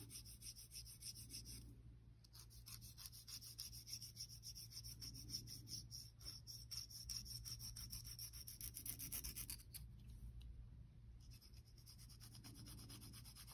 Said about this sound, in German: meinen Nagel einfach so ein bisschen in Form feilen